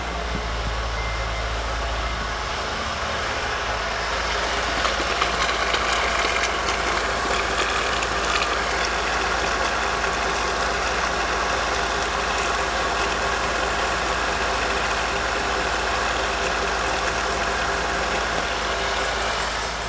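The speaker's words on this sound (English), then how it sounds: "Now I'm going to run the engine for not too long." A Honda J-series engine idles steadily under the hood during a power steering pump replacement, a constant low mechanical drone with a faint high whine running throughout.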